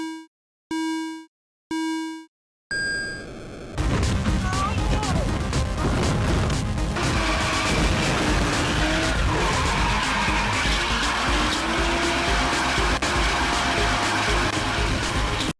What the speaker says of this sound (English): probably slamming directly into the guardrail